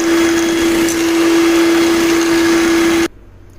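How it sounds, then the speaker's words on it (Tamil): Electric beater whipping Amul whipping cream, a loud steady motor whine with a constant pitch for about three seconds that then cuts off abruptly into near silence. "இதை ஒரு 10 மினிட்ஸ் ஒரு பீட்டர் வச்சு நல்லா பீட் பண்ண போகிறேன்."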